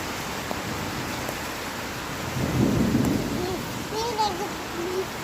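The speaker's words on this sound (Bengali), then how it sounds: "খুব জোরসে ঝড় হচ্ছে" A heavy rainstorm with strong wind near a railway line, with steady rain hiss and a swell of rumbling thunder midway, followed by faint chirping calls toward the end.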